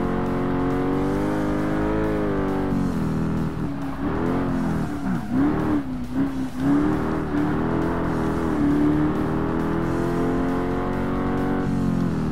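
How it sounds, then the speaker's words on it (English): A V8 car engine in the Forza Motorsport racing game drones and revs, its pitch rising and falling through gear changes, loud and continuous with a synthetic, thin tone and no talk. "What is this robotic, wimpy V8 crap that I'm hearing right about now?"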